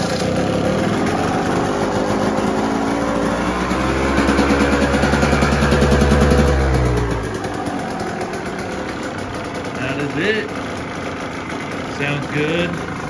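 KTM motorcycle engine after a top-end rebuild with cobalt upgrades, running on choke with a loud, rough idle that fades out midway, then stutters, while someone talks close by.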